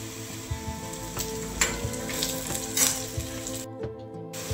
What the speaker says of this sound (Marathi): कांदा छान असा लालसर परतून घ्यायचा